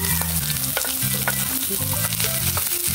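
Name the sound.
onion and garlic sautéing in hot oil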